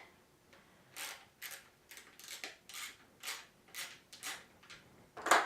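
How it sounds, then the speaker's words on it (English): A 7/16 ratchet loosens an air cleaner housing, producing about a dozen quiet, close, evenly paced clicks, then one louder clunk at the end. "We'll take our 7/16 ratchet here."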